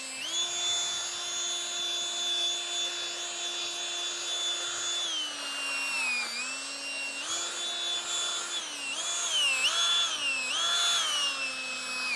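A drill spins a 3M polishing pad against a Chevy Impala headlight, giving a close, steady whine whose pitch sags and recovers several times as pressure on the plastic lens changes; no one speaks.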